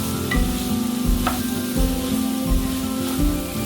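Radish pieces are stirred in a pan with salt, chili powder and turmeric. Steady scraping strokes come about every half-second over a continuous close sizzle, with no talking.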